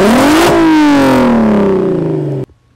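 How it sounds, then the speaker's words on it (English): A car engine revs hard, climbing sharply in pitch and then slowly winding down with a throaty exhaust growl before cutting off abruptly. "There's nothing like that sweet, sweet exhaust note when it's done properly."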